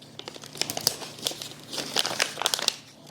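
Wrapping paper being folded around a present, with close, crisp crinkling and rustling in short bursts and no talk.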